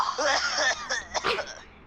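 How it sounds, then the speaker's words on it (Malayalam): A person coughs several times in a short burst of rough, throaty hacks, close to the microphone, with brief pauses between coughs. "ചുമക്കുന്നുണ്ടല്ലോ"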